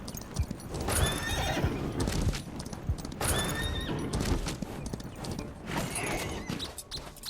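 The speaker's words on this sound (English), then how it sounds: "Now they're talking about us calling our horse." Horse neighs and hoof clip-clops in the video game Far Far West, with three loud whinnies spaced a few seconds apart over continuous hoofbeats and a busy game soundscape.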